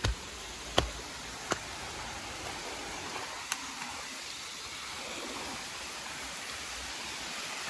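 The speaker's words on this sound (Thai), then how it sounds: "ข้างบนนี่มันเป็นน้ำตกแบบนี้เลยนะ" A forest waterfall rushes in a steady, broadband wash of falling water, with a few sharp clicks near the start; no talk is heard.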